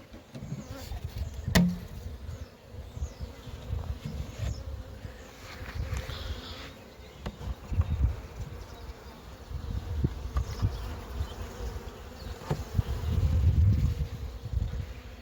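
A honey bee swarm hums steadily with dense insect buzzing, close and continuous, rising and falling in loudness with occasional nearer passes.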